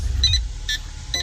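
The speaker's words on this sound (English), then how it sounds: "There's my radar detector going off." Three short beeps from a radar detector sound at intervals over the low, steady engine idle of a 2013 MINI Cooper S Coupe.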